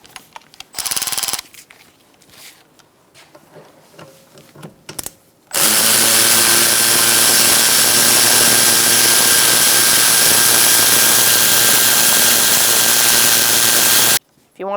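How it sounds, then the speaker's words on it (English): A battery-operated ratchet working on the rear brakes of a 2012–2018 Ford Focus gives a brief whir, then a loud, steady, high motor whine runs for about nine seconds before stopping abruptly. "use my battery operated ratchet"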